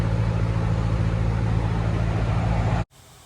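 Steady, loud rumble of road traffic and engines heard from a narrowboat on the Coventry Canal, a continuous low drone that cuts off suddenly near the end.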